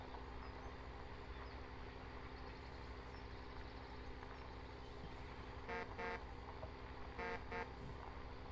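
Short car horn toots in a farming simulator game, two paired double honks near the end over a steady engine idle rumble.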